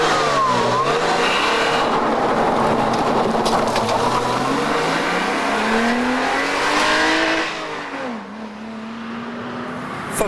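A Porsche Boxster's flat-six engine revs hard, its note climbing steadily, dipping sharply near the end, then rising again, loud and close with no voices.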